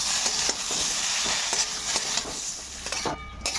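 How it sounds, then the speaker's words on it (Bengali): Ground spice paste with ginger and green chilli being stir-fried in a pan: a close, constant sizzle punctuated by regular scraping strokes of a spatula against the metal. "এখানে সব বাটা মশলা এখন হচ্ছে এটাকে খুব সুন্দর করে ভালো করে কষাবো"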